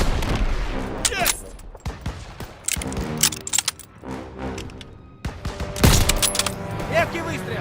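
Gunfire in the World War II shooter game Call of Duty: WWII, with bursts of rifle and machine-gun shots, loud cracks and clattering volleys over about eight seconds, and a voice calling out briefly.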